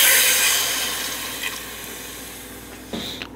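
A little water splashes into a pot of pork belly and mung beans, a close pouring wash that fades gradually, then a couple of short splashes near the end.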